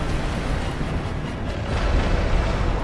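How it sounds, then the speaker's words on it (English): A boss explosion in the Dark Souls video game gives a loud, dense, continuous rumbling roar of broadband noise that swells slightly toward the end. "The explosion in front of him"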